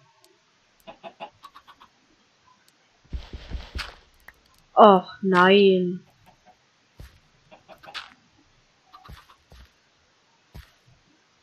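Blocky farm chickens in the Minecraft video game give a couple of short, clear clucks near the middle, surrounded by sparse clicks and game noises, with someone speaking German briefly.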